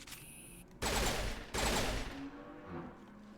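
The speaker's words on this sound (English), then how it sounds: "It's a good pistol, it's burst fire." Two loud, close bursts of pistol fire from a burst-fire handgun in the Mass Effect video game, each a dense rapid cluster of shots lasting under a second, with quieter game ambience before and after.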